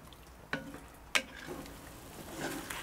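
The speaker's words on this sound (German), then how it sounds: "Und letztlich fängt es dann auch irgendwann mal an zu braten." Meat frying in a pot for a Kathmandu Sherpa stew, a soft sizzle close by, broken by two sharp clacks of a stirring utensil against the pot.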